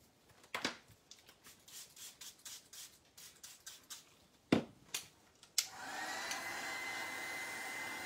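A heat tool switches on partway through, giving a steady loud blowing whoosh as it dries paint on a metal-and-rust style frame makeover, after a stretch of scattered rubbing and tapping sounds.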